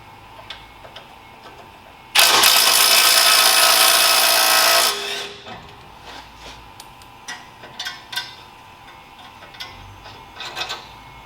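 Impact wrench loosening tight 19mm bolts on a CV joint, one loud continuous burst of about three seconds that winds down, followed by faint light clicks and handling noises.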